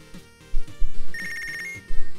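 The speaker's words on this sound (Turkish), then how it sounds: "Telefon çaldı." A phone rings in the boxing game Punch Club, a short electronic ringtone trill over game music, loud and close with no talk.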